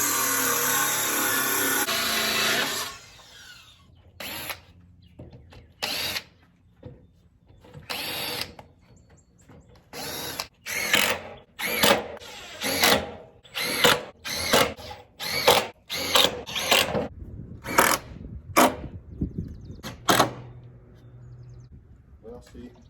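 A power drill driving 1 3/4 inch screws into wood while building a brooder box, heard as a series of short, sharp whirring bursts repeating in quick succession, close and loud.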